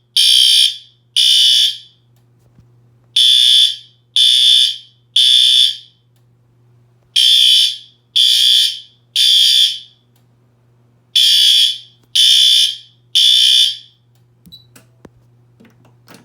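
Fire alarm notification appliances on a newly installed system under test, loud electronic horn bursts in repeated groups of three with short gaps, followed by a faint background hum after they stop.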